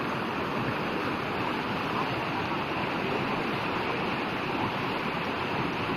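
Steady, continuous rush of flowing river water in Indonesia, loud and close with a dense broadband roar that never lets up, alone without voices.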